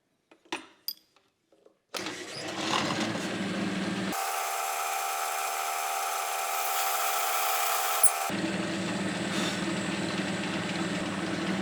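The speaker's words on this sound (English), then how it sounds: "For Forstner bit, I'm using a 1/2 inch to countersink the holes for my machine bolts" A half-inch Forstner bit in a power drill bores countersink holes in wood for machine bolts. A few light knocks come first, then a loud, steady whine and grind that runs continuously for about ten seconds, close up with no speech.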